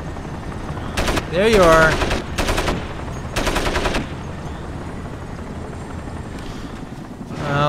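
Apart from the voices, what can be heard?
helicopter in Crysis video game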